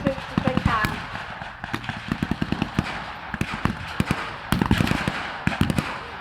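WW2 battle re-enactment with rapid crackling gunfire bursts and sharp blank shots, some in quick machine-gun-like runs and others scattered, loud and near, while a commentator talks over the noise.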